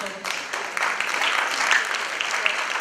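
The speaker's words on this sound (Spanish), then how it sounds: "Lo recibimos con un fuerte aplauso, por favor." An audience gives sustained, dense applause to welcome a speaker at an academic talk about chicha, the traditional maize beverage. The clapping starts abruptly and holds steady for a few seconds at close range.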